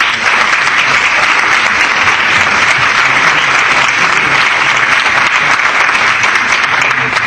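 An audience applauds to welcome a speaker at a lecture on May 1968, loud, dense and unbroken clapping sustained for several seconds without speech.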